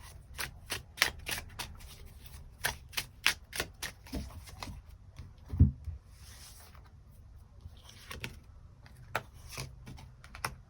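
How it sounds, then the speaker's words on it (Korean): Tarot cards being shuffled and drawn for a reading, heard as a quick run of close, crisp flicks and taps in uneven bursts, with quieter gaps between them and no talk. "조금 더 추가 카드 뽑아보도록 하겠습니다"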